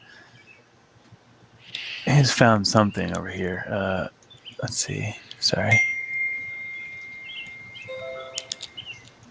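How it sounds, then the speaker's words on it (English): Birds chirp softly in the background of a game with keys and dinging sounds, with a sustained tonal whistle and small chimes near the end, mostly under steady talking. "You're hearing birds and dinging noises."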